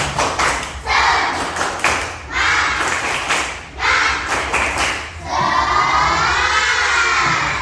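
A group of students claps in rhythmic bursts and shouts together in a lively chant in a classroom, with loud cheering rising at the end.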